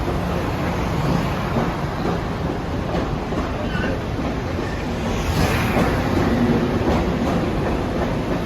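An LIRR M3 electric train runs past on the Main Line near Bethpage and Hicksville, a loud, continuous rumble and roar with rhythmic wheel clatter that holds close for the whole stretch.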